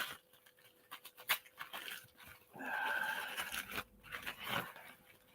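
A dog at home, suddenly interested in a sandwich dinner, makes close snuffling, whimpering and panting sounds mixed with a few crunchy bits and clicks, quiet and uneven, with no talking.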